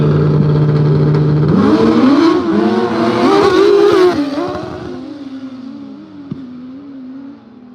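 Two Ford Bronco race cars rev hard off the line at a no-prep drag race in the woods, engines roaring loud and near, climbing through gear changes and then fading into the distance.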